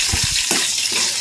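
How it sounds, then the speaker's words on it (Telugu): Tempering spices for upma sizzle in hot oil with a steady bright crackle and hiss, with a few soft stirring clinks underneath, close and continuous. "తాలింపు అయితే మంచిగా వేగుతుంది కదండి"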